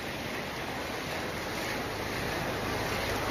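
Floodwater rushes past in a steady, broadband roar, continuous and fairly loud, as in a flooded village street after heavy rain, with no voices.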